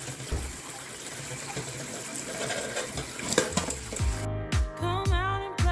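Tap water runs steadily into a sink for several seconds, rinsing food, at moderate level; a brief musical passage with a singing voice comes in near the end.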